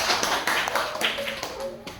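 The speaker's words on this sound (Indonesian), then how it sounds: "Kita beri tepuk tangan." An audience at a university teacher-training presentation in Indonesia gives applause, a burst of scattered claps heard close and fairly light, overlapping with a voice speaking.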